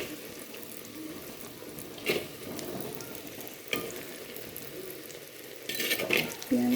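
Chopped onion frying in a pan, first over low heat and then turned up until lightly browned, gives a steady low sizzle with a few louder scrapes and clatters of stirring, heard close with no talk.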